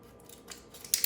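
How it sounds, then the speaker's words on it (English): A kitchen knife cuts an onion in half, giving a short, quiet crunch that ends in a sharper slicing snap, close by with no voices. "So we're just going to cut off this end. And then I like to just cut it in half."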